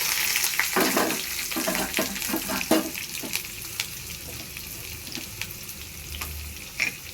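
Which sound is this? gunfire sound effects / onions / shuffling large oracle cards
onions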